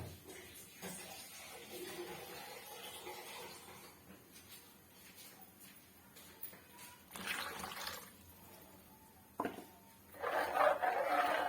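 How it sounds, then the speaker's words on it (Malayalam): Water is poured into a bowl of ground coconut paste with turmeric and shallots for a mackerel curry, a few short splashing bursts that grow louder near the end after quiet handling noises. "ഇനി നമുക്കിത് കഴുകി ഇച്ചിരി വെള്ളം കൂടെ ഒഴിക്കാം."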